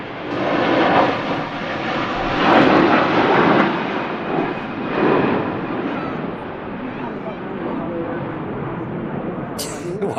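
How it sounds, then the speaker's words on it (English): A Virgin Atlantic airliner bound for Orlando begins its takeoff roll at Manchester Airport in strong winds, a loud, steady jet roar with broadband wind buffeting that swells and fades in waves, with a voice talking over it. "Virgin Atlantic to Orlando just starting to take off roll with the Air Transat approaching behind."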